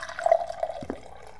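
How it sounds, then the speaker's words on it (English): Water is poured into a distillator machine in a video game, giving a short liquid burbling and gurgle followed by a soft drip-like blip, close and clear. "let's get some water and put it in the distillator too"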